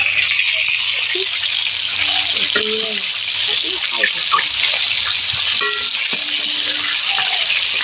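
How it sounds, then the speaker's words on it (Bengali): KFC-style fried chicken leg pieces crackling in hot oil as they are stirred: a loud, continuous close sizzle with occasional clinks and rattles, and a voice speaking over it. "আবার এগুলোকে একটু নাড়াচাড়া দিয়ে ভেজে নিতে হবে"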